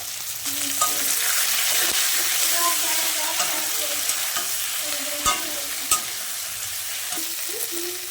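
Chilli-laced spice paste stir-fried in a pan for a fish curry with cauliflower and potato, a steady close sizzle with scraping stir strokes and a few sharp clinks against the pan throughout.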